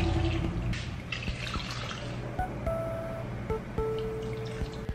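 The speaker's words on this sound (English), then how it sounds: "I'm going to add some cups of water to kind of just cover it up." Cups of water poured into a pot of Japanese curry with vegetables and meat, a steady close splashing and trickling with a few drips, heard alone.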